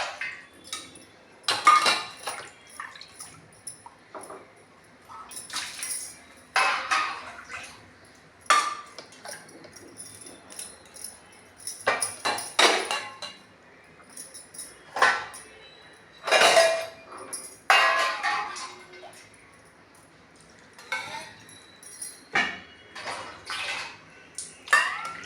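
An item is washed by hand with water, intermittent splashing and clinking of metal dishes in short scattered bursts separated by quiet gaps, close by.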